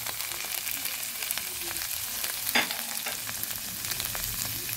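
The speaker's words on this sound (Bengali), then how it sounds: "আদাটা কিছুটা ভাজা হয়ে আসলে দিয়ে দেবো জিরে পাউডার, ধনে পাউডার আর হলুদ গুঁড়োটা।" Ginger frying in oil for a vegetarian pumpkin and drumstick curry, a low continuous sizzle with light stirring scrapes and one sharper clatter midway, close and without talk.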